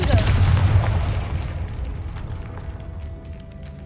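A Confringo fire blast spell in Hogwarts Legacy bursts with a deep, close boom, then rumbles and fades away over a few seconds.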